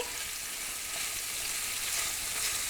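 Fajita vegetables fry in oil in a pan that held steak, giving a steady, close sizzle that holds even throughout with no talk.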